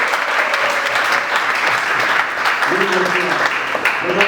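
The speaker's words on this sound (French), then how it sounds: "Applaudissez pour ce couple." Audience applause at a civil wedding ceremony in honour of a couple, steady and dense clapping throughout with a voice briefly heard speaking over it.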